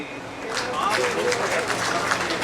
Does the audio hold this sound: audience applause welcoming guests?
yes